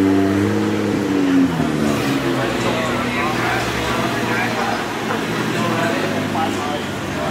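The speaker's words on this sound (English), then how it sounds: "That V10 sounds good." V10 car engine revving at a car meet, a loud sustained engine note with rising pitch sweeps early on, blended with outdoor crowd noise.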